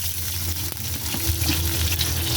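Mung beans sauté in a pan for ginataang monggo, giving a steady, close sizzle with a low rumble beneath and no talking.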